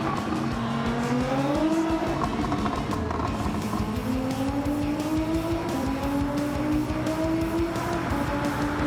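Tuned 1000-horsepower Nissan R35 GT-R racing in Gran Turismo 7, its engine revving up steadily through the gears with tire squeal, a continuous loud close drone with rising pitch sweeps.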